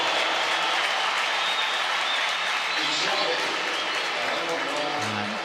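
A nearly 70,000-strong stadium crowd at a Barcelona pre-season match greets Luis Suarez's debut with sustained applause and cheering, a dense, even roar that stays broad and distant throughout.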